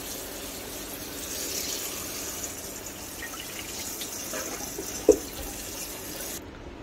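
Running water poured over scored, crushed green olives for pickling, a steady close splashing pour with one brief knock near the end before it cuts off, with no talk.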